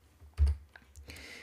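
A few keystrokes tapped on a computer keyboard while writing code, a heavy close thump followed by lighter scattered clicks, alone without talk.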